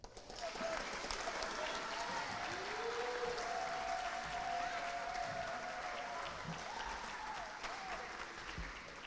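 Steady applause from a school audience for seventh-grade award winners at an excellence celebration, continuous and fairly distant, with faint voices and a few whoops mixed in.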